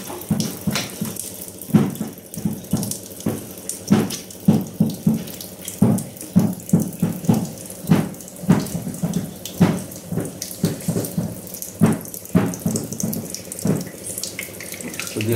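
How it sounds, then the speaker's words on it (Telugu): Water running from an RO water purifier, heard as close, continuous splashing and trickling with rhythmic pulsing surges throughout, and no talk. "ఇందులో వాటర్ వస్తాయి."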